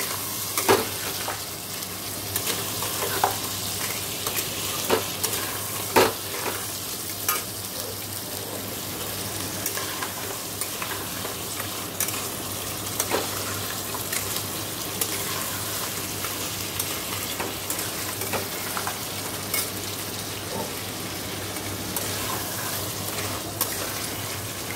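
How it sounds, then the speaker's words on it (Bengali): Crab stir-fried in spice paste in a home kitchen, the sizzle and frying hiss running continuously while a spoon scrapes and stirs in irregular knocks, with no talking. "কাঁকড়াটা কষিয়ে নিচ্ছি"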